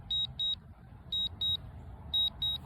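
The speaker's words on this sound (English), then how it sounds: "It has this annoying beep also." A DJI Mavic Air 3 drone's controller sounds a return-to-home alert: three pairs of short, high, evenly spaced electronic beeps, fairly faint over a low background rumble.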